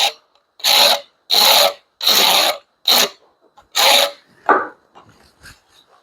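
A Japanese-style pull saw, a 340 mm ripping dozuki with a reinforced back, cuts wood in a series of rasping strokes, close and loud in a steady rhythm, then fades into lighter scraping.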